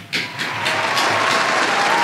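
A crowd applause effect plays close and loud, a brief swell of dense clapping that builds and holds for about two seconds.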